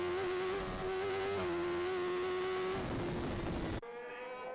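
A superbike in a road race holds a loud, steady high-revving engine note close by, with a shift in pitch partway through and an abrupt change near the end, and no talk.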